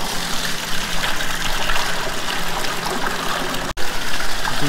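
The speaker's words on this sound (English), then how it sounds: "And now we start draining the whey." Whey pours steadily out of a cheese vat during Gouda making, a continuous close gush of running liquid with a brief dropout near the end.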